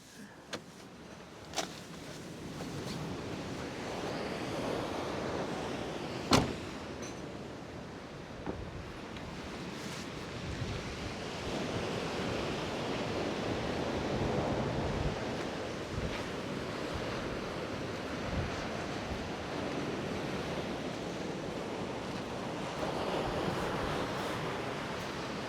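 Ocean waves wash onto a breezy beach at midday, a continuous broad surf roar with gusts of wind buffeting the microphone and a few sharp knocks, with no talk.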